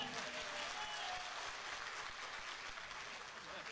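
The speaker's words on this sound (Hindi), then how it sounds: "तालियां बजाएं एक बार" Crowd applause at a Hindi poetry or song performance, a steady, even wash of many hands clapping at moderate distance throughout, fairly soft and without pause.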